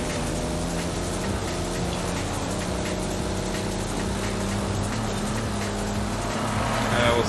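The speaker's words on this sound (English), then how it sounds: "This sounds kind of like a diesel. A bit truck-like." A steady, droning diesel engine of a Nissan Safari in Forza Horizon 5, with a deep, constant rumble, swelling slightly louder near the end, with no talking.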